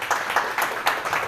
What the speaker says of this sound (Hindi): तो इनके लिए जोर से ताली बनती है